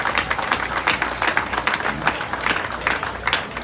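A crowd at outdoor Labour Day speeches in Union Square, Bermuda, applauds the Bermuda Union of Teachers: loud, dense, steady clapping that carries on throughout with no talk over it.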